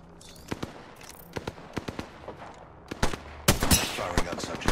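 Bursts of video game gunfire in a tactical firefight: scattered single sharp shots, then a denser, louder volley near the end, over a low background hum.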